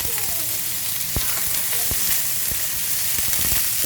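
Finely diced onion added to a pan of hot oil with crackling cumin seeds for bhindi masala: a dense, steady sizzle with occasional sharp pops and taps, loud and close, no talking.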